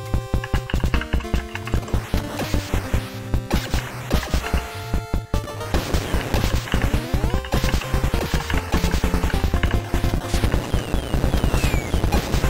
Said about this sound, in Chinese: 你拿那个机枪噔噔噔噔噔噔